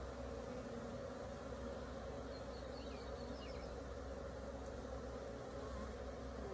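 Honey bees hum in a dense, continuous drone from an open hive during a split, with a steady, even buzz close by and no pauses.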